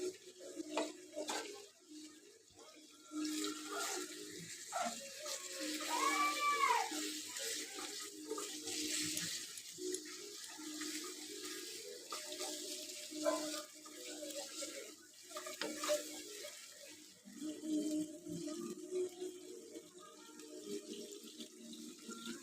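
Tap water runs into a kitchen sink while a bowl is rinsed during chicken kosha preparation, a continuous moderate splashing with occasional clinks of the bowl against the sink.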